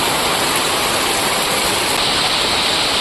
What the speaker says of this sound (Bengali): বন্ধুরা, প্রচণ্ড জোরে বৃষ্টি শুরু হয়ে গেছে